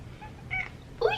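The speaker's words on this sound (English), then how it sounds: "Oh, tiny kitty." A small cat gives two short meows indoors, a softer one first and then a louder, rising cry about half a second later, close to the microphone.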